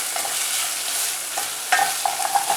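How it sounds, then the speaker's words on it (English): Chopped onions fry in hot oil in a pan for dhaba-style dal fry, giving a steady close sizzle with a few sharper crackles and spatula scrapes near the end, and no voices. "I'm going to fry this till it becomes nice and brown"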